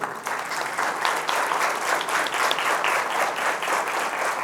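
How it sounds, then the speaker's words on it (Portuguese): A room full of people claps steadily and warmly for several seconds, a dense, even wash of applause. "Todos nós devemos uma salva de palmas para o André."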